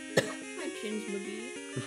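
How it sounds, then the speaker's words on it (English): A single short cough near the start, close and abrupt, followed by a voice talking over synthesized game music. "I coughed"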